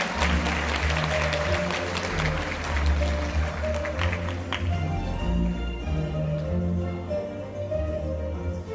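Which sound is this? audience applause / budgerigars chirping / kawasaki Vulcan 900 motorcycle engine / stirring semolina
audience applause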